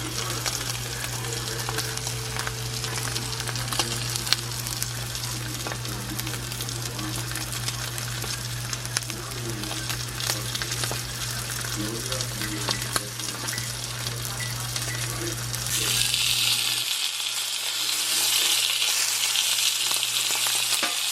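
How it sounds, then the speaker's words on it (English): Butter and ghee sizzle and crackle steadily in a hot cast iron pan, a continuous close frying hiss with a low steady hum underneath that cuts out near the end, no talking. "got my trusty cast iron with a little bit of butter in it, a little bit of ghee, and we're waiting for it to get hot"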